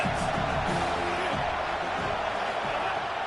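Stadium crowd noise from College Football 27 gameplay, Texas Tech at USC: a steady, dense roar of cheering spectators filling the whole stretch, with a commentator talking over it.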